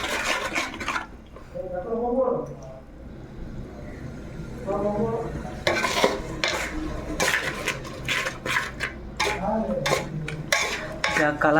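Tomato paste masala sizzles and is stirred in a pan for a Bengali-style chicken curry, with spatula scrapes and clinks over steady frying, while a voice talks throughout.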